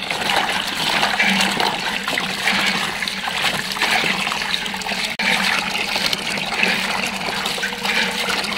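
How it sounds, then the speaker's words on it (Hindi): Okra is washed in water, with a continuous close splashing and running of water that stays steady apart from one brief dip. "तो ऐसे मैं भिंडी को दोबारा धो लेती हूँ"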